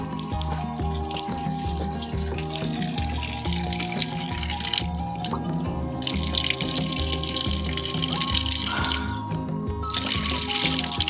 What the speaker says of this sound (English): Cool mountain water.